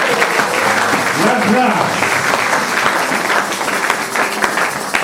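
A church congregation applauds in a steady, loud wave of clapping throughout, with a voice speaking over it.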